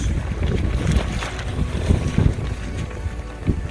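Strong wind buffets the microphone outdoors while a tent goes up beside a Harley on a camping trip, a loud continuous low rumble with gusty surges and no talk.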